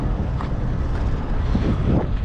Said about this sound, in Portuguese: Tá ventando, né?